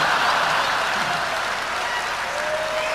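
A live comedy audience applauding, dense sustained clapping from a crowd that fills the room evenly and steadily without breaks.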